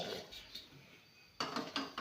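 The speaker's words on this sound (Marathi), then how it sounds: "गॅस लावते, कढई ठेवते भेंडी बनवायसाठी आणि इकडं पातेलं" A metal pot is set down on a gas stove with a quiet scrape, then a short run of louder metallic clatters and knocks at the end.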